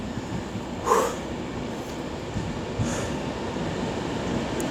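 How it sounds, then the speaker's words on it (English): An Avanti West Coast train pulls into a platform at Coventry station, a steady rumbling roar of wheels and rails with faint squeals, heard from close by with no talk. "just in time to see coming in at 12:45 Avanti West Coast service to London Euston."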